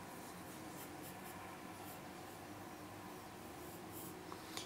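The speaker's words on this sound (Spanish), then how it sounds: "hay que hacer continuamente ese trabajo con el lápiz de ir retocando las sombras" A pencil shading over paper to darken shadows in a drawing, heard as quiet, continuous scratchy strokes repeating in a steady rhythm, close and soft with no voices.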